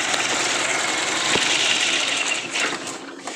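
A Chevrolet Spark 1000cc engine, which stalls when the air conditioning is on, runs at a steady close idle with a constant mechanical hum and a brief knock near the middle.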